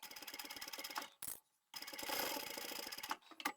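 Sewing machine stitching across fabric at the top of a bookmark near a D-ring, a steady rapid mechanical chatter that pauses briefly, then resumes for a longer run.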